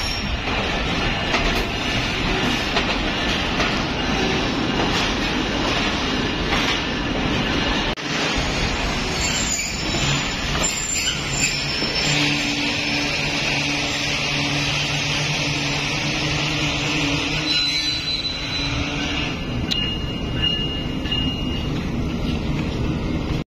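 The Karakoram Express arrives at Faisalabad station, a loud, continuous rumble of wheels and rolling cars close by, with brake squeals and steady noise dominating throughout.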